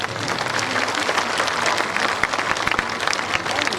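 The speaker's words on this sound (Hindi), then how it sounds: "तो एक बार बिना उनका शक्ल देखे हुए भी सही, लेकिन ताली बजा दीजिए।" A large crowd claps steadily at a political party's founding convention in Bihar, dense and sustained applause with a few sharper claps standing out and faint voices mixed in.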